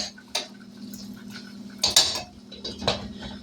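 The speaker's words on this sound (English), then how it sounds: "we're just going to stir this so that the gravy doesn't stick to the pan or anything" A utensil stirs gravy in a pan, giving a few sharp metallic scrapes and clinks at irregular intervals over a low background hum, close by and without speech.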